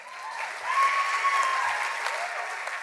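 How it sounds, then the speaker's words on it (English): Audience applause at an awards summit as an honoree is recognized, steady broadband clapping filling the room for the full length, slightly swelling partway through with a faint tonal hum underneath. "As you all clap for her"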